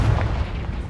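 Confringo blasting spell in the video game Hogwarts Legacy, a deep booming burst up front followed by a steady low rumble for the rest of the second.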